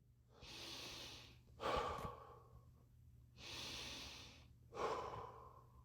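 Two slow, deep breath cycles demonstrated during a dawn church service, each a long airy inhale followed by a heavier exhale, close and quiet with no talking.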